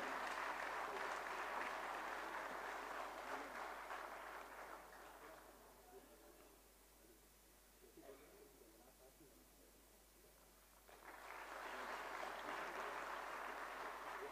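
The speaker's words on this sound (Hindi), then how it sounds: "जोरदार तालियां, अभिनंदन, वंदन।" Applause from a ceremony audience as a guest is honoured with a shawl and memento: a broad, steady wash of clapping, fading out midway, then swelling back strongly near the end.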